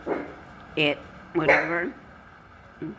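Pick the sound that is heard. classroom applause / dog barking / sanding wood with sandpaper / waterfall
dog barking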